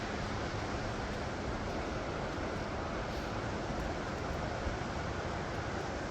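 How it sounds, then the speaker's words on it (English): River water flows and rushes along a trail at Ohiopyle, Pennsylvania, making a constant, even wash of noise that fills the whole stretch without any voices. "Nice hearing that water too."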